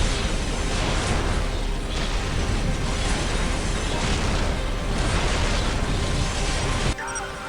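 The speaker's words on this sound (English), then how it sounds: "So every 30 seconds I can drop a few bombs." Bombs dropping and exploding in the Dawn of War real-time strategy game, a dense, loud, continuous roar of blasts and rumbling battle noise that cuts off sharply near the end.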